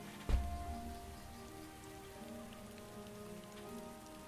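Steady rain in the video game Starbound patters on a surface with a low, constant hiss, faint and unbroken, after a brief dull thump at the start.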